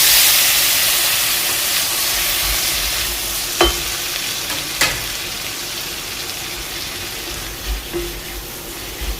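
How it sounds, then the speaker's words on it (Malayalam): Chopped tomatoes go into softened onions in a hot pan for a Kerala erissery, giving a continuous loud sizzle with a few sharp clacks of a stirring spoon against the vessel. "ഉള്ളി ഇത്രയും വഴന്നാൽ മതി, ഒത്തിരി അങ്ങ് വഴന്ന് പോകേണ്ട. അതിലേക്ക് തക്കാളി ചേർക്കാം"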